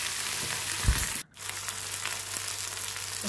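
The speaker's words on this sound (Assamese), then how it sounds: "এতিয়া মই বিলাহীখিনি দি দিলোঁ, ভালকৈ মই ভাজি ল'ম" Chopped tomatoes sizzle and fry in a pan with asafoetida, a steady close hiss with a brief stir or clatter partway through.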